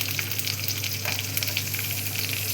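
A medium-sized onion fries in a pan with a loud, dense sizzle and crackle, continuous and close throughout with no voices.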